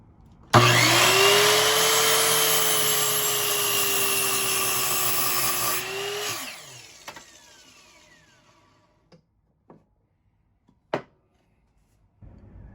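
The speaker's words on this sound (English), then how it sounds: "if I take my wood and I lower the blade exactly on top of that line and cut" Miter saw spinning up loudly and cutting through a piece of wood, a sustained whining roar for several seconds that winds down, followed by a few scattered clunks and knocks.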